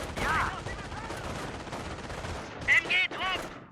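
Scattered gunfire in a World War II strategy video game, a few sharp shots and bursts over battle noise, with game voices calling out in the middle of the clip.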